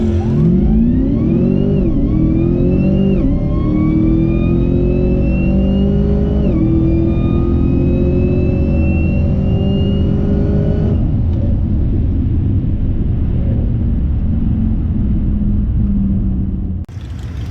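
Drag race car making a full pass at a test-and-tune session, engine screaming loudly as it climbs through several gear changes, then fading into a lower rumble as it moves away.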